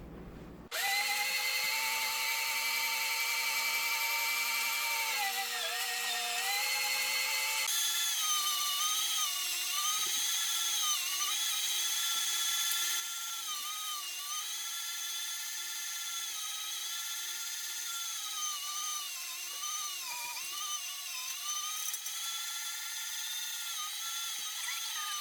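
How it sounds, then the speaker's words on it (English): Electric meat grinder processing long strips of meat for sausage, a loud, steady motor whine with shifting pitch as the load changes, running continuously without talk. "So we have ground all 40 pounds worth of meat now."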